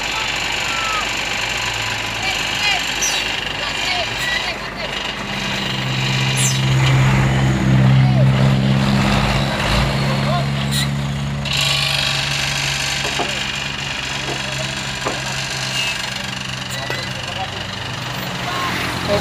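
A Hino trailer truck tows a stalled Fuso tronton truck up a steep hill, diesel engines droning and rising to a heavy low roar midway, with mechanical rattles and clanks; people talk intermittently over the engine noise.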